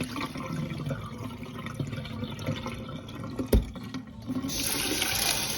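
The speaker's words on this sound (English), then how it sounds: "I just wash it under the pipe like that, take off some of the starch" Tap water runs steadily over hominy corn being rinsed under a kitchen faucet, with a brief clunk partway through and the flow growing brighter near the end.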